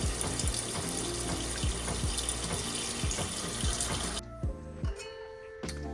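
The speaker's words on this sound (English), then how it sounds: "I'm going to turn some cold water on my saltfish just to cool it down" Cold tap water gushing from a kitchen faucet onto cooked saltfish in the sink, a steady close rush that cuts off near the end, leaving faint drips and clinks.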